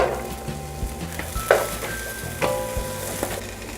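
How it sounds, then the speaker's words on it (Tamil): Ginger, garlic and green chilli sautéing in a pan for kadai mushroom masala, with a soft continuous sizzle broken by several sharp spoon taps and scrapes against the pan, close and clear with no talking. "எடுத்து வச்சுருக்க இஞ்சி, பூண்டு, பச்சை மிளகாய் 3ஐயும் ஒன்றா ஆட் பண்ணிக்கோங்க"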